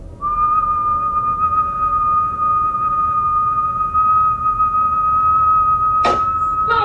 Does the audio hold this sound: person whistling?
yes